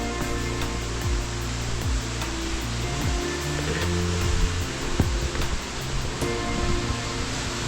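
The Gauri river flowing out below the Gauri Udyar temple, a loud, steady, close rush of water with no pauses and no talking.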